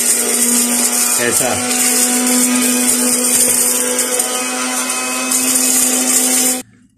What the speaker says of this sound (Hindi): तो शोर के लिए माजरत, हम पीसते हैं।